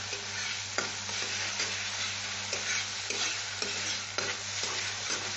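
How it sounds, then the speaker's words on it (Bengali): Chhena filling for potol dorma being stir-fried in a pan, a continuous close sizzle broken by regular rhythmic scrapes of the spatula, several strokes evenly spaced throughout. "এটা একটু কষে নিই ভালো করে"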